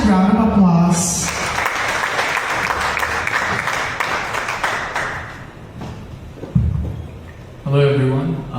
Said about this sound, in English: Let us all give him a massive round of applause